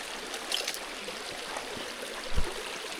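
Small brook trout creek in West Virginia trickling and babbling gently, a soft continuous wash of water with a few faint splashes, no voices.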